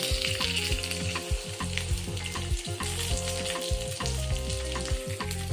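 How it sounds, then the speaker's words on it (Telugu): Mustard seeds, curry leaves, cumin and dried red chillies sizzle loudly in hot oil for a tempering for an Andhra-style tomato coriander chutney, a steady crackling fry with occasional stirring, close and continuous. "కొంచెం నూనె వేసుకొని మనం పక్కన పెట్టుకున్న తాలింపు గింజలు, కరివేపాకు, జీలకర్ర, ఎండుమిరపకాయలు అందులో వేసుకుందాం."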